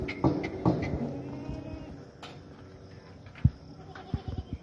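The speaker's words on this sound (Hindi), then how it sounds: "साध है बकरा दे बहुत कमजोर हो गया" A weak male goat on a dairy livestock farm gives a few short, close bleats early on, followed by thuds and scuffling farmyard noise with a low background hum.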